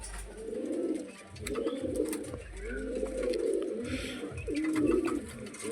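A female pigeon coos in repeated low, rolling phrases close by, a soft steady rhythm with faint background noise.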